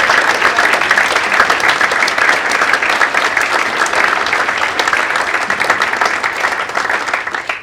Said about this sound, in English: please give yourselves a huge round of applause for all the support you've shown Grimsby Town this season